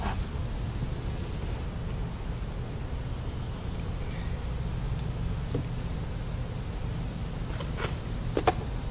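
Constant low insect buzzing of agitated bees at a hive stand fills the air, a steady hum with a few faint clicks near the end.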